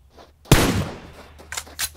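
Gunshots in the PUBG Mobile video game, one sharp loud shot followed by a decaying tail, then two shorter, quieter shots near the end, with no talking.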